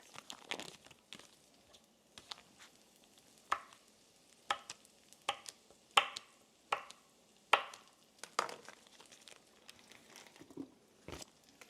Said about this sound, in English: I'm going to cut it down just into pieces so it melts better in the hot liquid